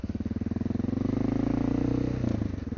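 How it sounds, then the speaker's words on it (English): A Honda XR650L motorcycle spinning its rear tire on pavement, the engine revving in a steady pulsing drone that rises and holds, close and loud throughout, with no talking. "Spin tires on pavement."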